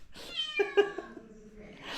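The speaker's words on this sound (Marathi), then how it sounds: "मांजराचं नाव डॉली ठेवलं" A cat meows close by, a couple of clear rising-and-falling cries with a softer call trailing off, no talking over it.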